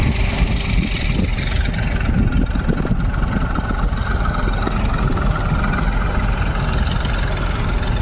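A tractor engine idles steadily with a low, continuous rumble, loud and close, in open farmland by a village where field repair work is under way.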